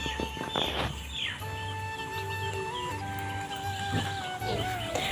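Chickens cluck in a steady, low rhythmic series close by, while thin high peeps from chicks rise and fall over them.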